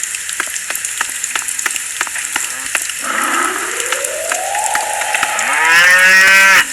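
A cow moos in GTA 5 with a long, rising, drawn-out call that swells louder toward the end, over a steady crackling, sizzling background texture.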